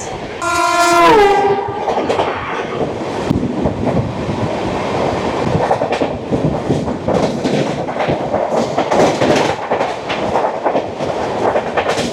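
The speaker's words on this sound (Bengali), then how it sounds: "চলে আসছে ট্রেন নাম্বার বাইশ আটশো আট চেন্নাই সেন্ট্রাল থেকে সাতলাগাছি এসি এক্সপ্রেস" The Chennai Central to Santragachi AC Express, train 22808, sounds a loud horn blast, then rumbles and clatters steadily as it rolls in close by.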